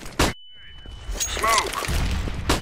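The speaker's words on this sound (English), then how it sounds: "flashbang." A flashbang grenade in the video game CS:GO bursts with a sharp bang, followed by a lingering high ringing tone over muffled game noise, with another sharp impact near the end and some voices in the background.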